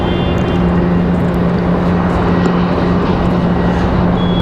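A JetBlue airliner departs Raleigh-Durham for San Juan, Puerto Rico, giving a continuous, even engine rumble with a faint steady tone running through it, close and loud for the whole stretch.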